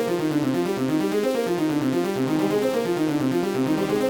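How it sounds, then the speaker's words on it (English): A smooth choir patch from the Nexus synth plugin, with tightened filter and volume envelopes and a shortened release, plays a steady close sung pad moving through stacked triads in a continuous, even layer with no talking. "It's this smooth choir sound."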